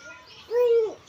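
A pigeon gives a single clear, close coo, a smooth rounded call over faint background hush.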